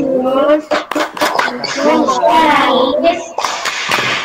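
Indonesian schoolchildren clap the PPK clap pattern together with the teacher, sharp rhythmic clapping mixed with chanted voices and speech, close and loud.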